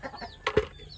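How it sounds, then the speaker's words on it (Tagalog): Native chickens being given vitamins in drinking water make a brief cluck and a flutter of wings, soft and fairly close, with a faint background tone and no talking. "Ito yung mga manok natin na native."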